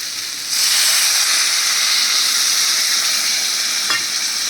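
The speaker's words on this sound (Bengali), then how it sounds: "এবার আমি এর মধ্যে দিয়ে দিচ্ছি জল" Water hits hot fried spice paste with potatoes in a pan, giving a sudden steady loud sizzle and hiss that starts abruptly and carries on nearly unchanged, close by, with no talk.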